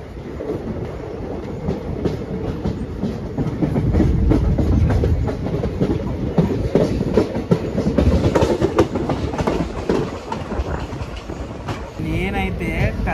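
Aboard the Koraput–Visakhapatnam InterCity Express, a steady rolling rumble carries a rhythmic clickety-clack of wheels over rail joints. It swells louder midway and then eases, and a voice talks over it near the end.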